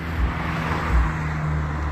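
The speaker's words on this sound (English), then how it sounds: "Noisy cars." Noisy cars drive past outdoors, a low throaty road rumble swelling briefly twice over a couple of seconds with steady traffic hum beneath.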